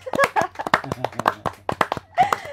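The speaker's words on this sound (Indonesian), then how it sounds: "Kita tepuk tangan bareng-bareng ya" Hands clap in quick, uneven bursts from an audience gathered at an event welcoming riders of a 1000 km charity ride for Palestine, sharp close claps scattered across a couple of seconds.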